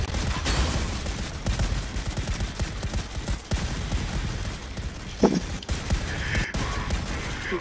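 Rapid enemy gunfire in the Volcanoids survival game, heard as a dense, continuous rattle of shots blended with mechanical clanking and creaks. It sounds fairly loud and close and keeps going without a break.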